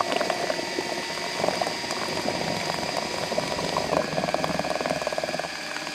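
Two-part PU expanding foam being mixed, a steady churning, bubbling liquid noise running continuously and fairly loud throughout, with no voices.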